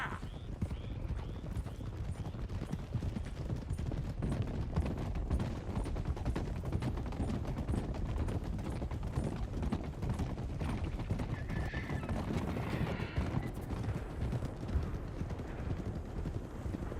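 Horses gallop in Red Dead Redemption 2 as a posse of outlaws rides out, with dense continuous hoofbeats, whinnies and scattered gunfire filling the clip at steady loudness.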